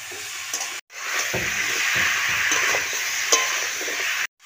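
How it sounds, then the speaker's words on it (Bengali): Cut papaya and fried potato sautéing with spices in a hot pan give a steady, loud sizzle with light stirring scrapes, broken by two brief pauses near the start and end. "আর কেটে রাখা পেঁপে দিয়ে দিচ্ছি। কষিয়ে নিচ্ছি।"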